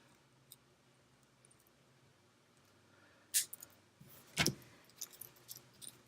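Jewelry wire is cut with a tool, giving two sharp, close metallic snips in a quiet room, followed by a few faint ticks and clicks.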